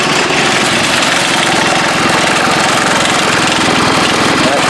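A small engine with a new muffler pipe, from an off-road build, idles loud and close, a steady rapid chugging rumble that stays even throughout.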